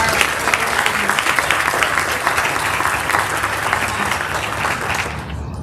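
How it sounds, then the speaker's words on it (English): Sustained applause from an audience at a school end-of-year ceremony, a dense patter of many hands clapping close by, fades slightly at the end. "So a round of applause for all of our"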